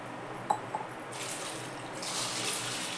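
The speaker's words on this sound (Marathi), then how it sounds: "साबुदाणा धुवून घ्यायचा चांगला," Sabudana (tapioca pearls) being rinsed in water in a kitchen vessel: a couple of faint drips and splashes, then a soft, steady pour and swish of water that swells slightly near the end.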